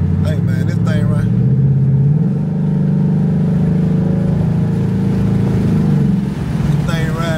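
Ford Mustang cruising at midnight, a loud sustained engine drone with rising and settling pitch from inside the car, with someone talking over it at the start and end.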